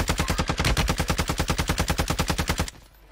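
Rapid automatic gunfire in Call of Duty Warzone 2.0, a steady burst of about two dozen evenly spaced shots that stops abruptly.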